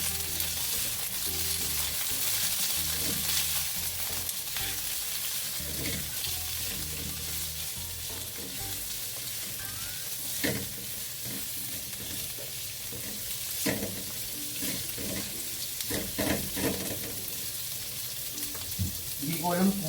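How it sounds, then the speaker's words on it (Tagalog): String beans (sitaw) are sautéed in a pan with a loud, steady frying sizzle, and a spatula scrapes and clatters repeatedly against the pan, up close with no talking. "Tapos ay ilagay na rin natin yung sitaw. Igigisa na natin."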